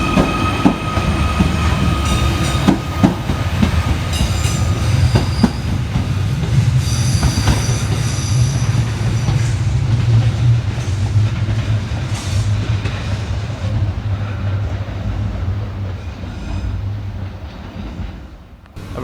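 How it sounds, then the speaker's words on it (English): A Merseyrail class 777 electric train pulls away from a station on the Ellesmere Port to Liverpool Central line, with a steady rising motor drone, squealing wheels and rail clatter that fade out at the end. "Out next to depart is 777-021 working the 1619 Merseyrail electric service from Ellesmere Port through to Liverpool Central."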